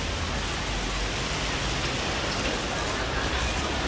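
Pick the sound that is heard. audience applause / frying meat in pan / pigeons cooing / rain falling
rain falling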